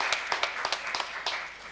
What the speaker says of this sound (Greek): Ένα χειροκρότημα για το Γιάννη.